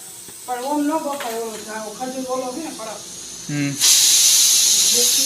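People talk near a pressure cooker on the stove, then its whistle releases steam in a sudden loud, sharp hiss that lasts to the end.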